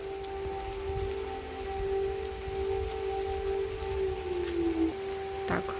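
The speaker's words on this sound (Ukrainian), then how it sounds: "А ну, дощик все більше." Steady rain falls over a garden of conifers, an even hiss of drops throughout with a faint sustained tone alongside.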